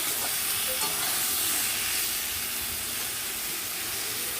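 Vegetables fry in a pan with tomato and green chilli, an even, loud hissing sizzle running unbroken throughout.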